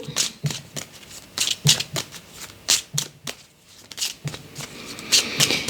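A deck of playing cards being handled as one is drawn, giving a string of crisp, close flicks and slides in an irregular rhythm with no talk.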